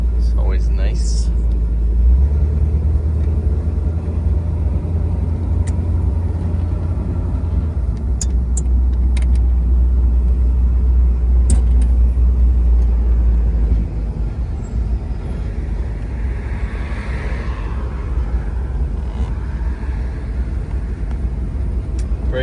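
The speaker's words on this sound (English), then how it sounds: "Got her warmed up, she is running like a dream." A 1963 Cadillac Deville convertible rolls along with its engine running, a smooth low rumble that drops off partway through. Road noise fills the background and someone talks at times.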